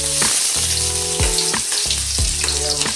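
Chopped onions sauté in hot oil in a pot, giving a steady, loud, close sizzle with occasional scraping stirs under light background music.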